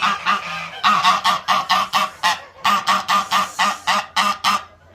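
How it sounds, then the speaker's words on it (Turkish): Geese at their egg-laying nest on a goose farm honk loudly and close by in a rapid, rhythmic series of repeated calls that runs without a break. "Bu tamamen kazlar bana saldırı pozisyonuna geçtiler."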